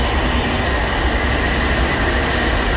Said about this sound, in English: Taking the metro right now in Kolkata. See how crowded this metro is.